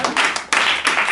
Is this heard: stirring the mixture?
no